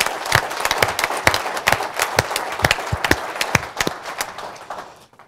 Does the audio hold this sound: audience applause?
yes